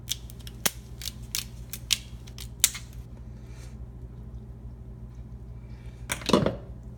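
Snips of scissors or shears cutting through a cleaned crab's shell and meat, a series of sharp close clicks in the first three seconds, then a louder crunchy burst near the end.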